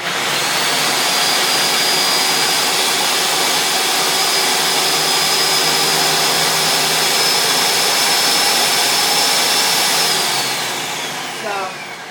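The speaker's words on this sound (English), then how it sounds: "I'm just going to start the food processor for a minute, so it's going to be really loud." A food processor chopping nuts runs at full power, a loud, steady high-pitched whine with a constant motor tone that holds for about ten seconds before winding down near the end.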